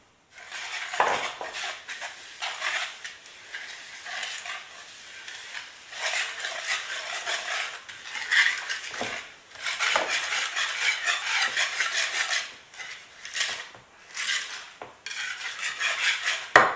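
A spoon scrapes and clatters around a pot as a thickened semolina mixture with grated coconut is stirred, in irregular bursts of close metallic scraping separated by brief pauses, with no talking.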